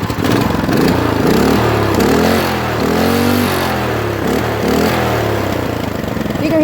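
Up close, a Predator 6.5 horsepower small engine revs high, its pitch repeatedly climbing and dropping in loud surges, with a rough mechanical clatter beneath the rising whine.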